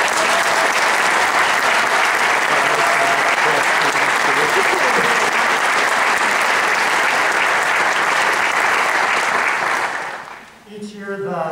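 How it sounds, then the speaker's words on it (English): Audience applause after a high school choir concert, a dense, loud wash of clapping that sustains steadily for about ten seconds before thinning out and fading near the end. "Let's give a round of applause to all of us."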